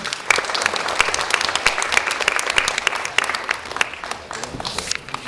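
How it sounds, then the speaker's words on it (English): Audience applause for Professor Yang after a lecture on the Cultural Revolution, a fairly close crowd clapping with sharp individual claps standing out through a continuous wash that fades slightly toward the end. "Let's give Professor Yang a round of applause."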